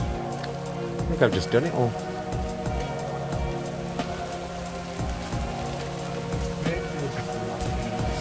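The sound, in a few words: heavy rain falling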